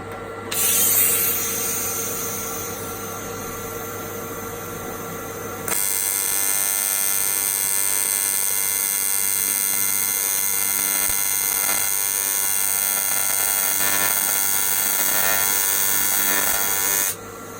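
Welding a broken powder-coated motor casing, a steady electrical buzz and hiss that starts, pauses briefly, then runs continuously and evenly for over ten seconds, close and without talk.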